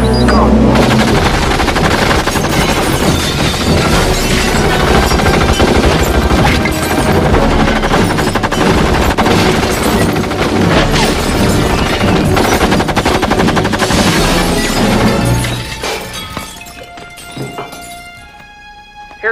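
Sustained machine gun fire from a fembot in the 1999 comedy film Austin Powers: The Spy Who Shagged Me, loud rattling bursts mixed with film score for about fifteen seconds before fading into quieter music.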